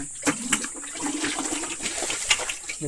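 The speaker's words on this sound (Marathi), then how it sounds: "पाणी यायला लागलं" Water rushes and splashes steadily throughout in a drained stream pool during fishing, with a few sharper surges standing out against the continuous flow.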